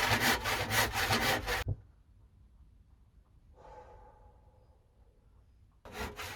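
A handsaw cuts through a bowed wooden tabletop, giving close, loud, rhythmic rasping strokes for under two seconds before stopping. Quieter shuffling follows, then the sawing resumes briefly at the end.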